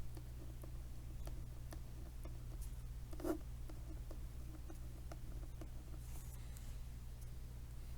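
Pen or pencil writing out a math answer on paper: faint, intermittent scratchy strokes and light ticks over a low steady hum, close and quiet.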